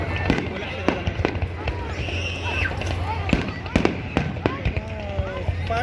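Fireworks bursting over the Doha Corniche in Qatar during an Eid celebration, a string of sharp cracks and booms at irregular intervals, with people talking and exclaiming throughout.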